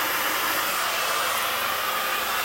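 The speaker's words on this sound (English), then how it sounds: "come in with my blow dryer and just start blow drying this forward" A blow dryer roars continuously and loudly at close range while drying hair forward with a flat brush, a steady broadband rushing hiss with no breaks.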